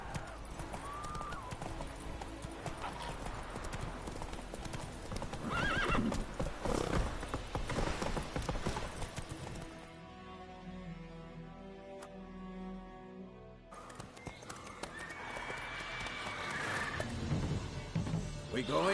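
A horse galloping in The Witcher III video game: continuous hoof clip-clop with a whinny, loud and near, mixed with game sounds and a short quieter musical stretch in the middle.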